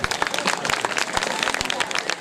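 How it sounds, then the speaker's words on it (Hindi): Crowd at an outdoor qawwali event at a dargah clapping loudly and steadily, a dense field of many hands with a few heavier thumps, close and busy, with voices mixed in among the clapping. "खुश होकर आप लोगों की ओर से इस बात के लिए भी जोरदार ताली होनी चाहिए"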